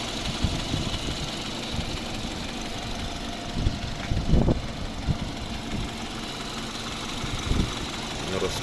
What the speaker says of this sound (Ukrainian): гляньте, як працює моторчик